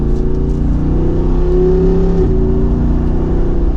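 A 2024 Jeep Wrangler Rubicon 392 V8 with its exhaust valve open roars loudly under acceleration, rising in pitch with a brief dip as it shifts, then climbing again; continuous and close, no voices.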